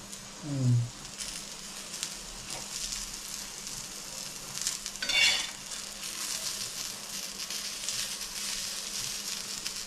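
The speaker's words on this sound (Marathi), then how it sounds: "मिरची भाजलेली चांगली काढून घेऊ मीठ टाकले अजून एक काढू" Green chillies roast on a griddle pan (tava) with a soft, low sizzle throughout, a brief clatter early on, and a light scraping stir partway through.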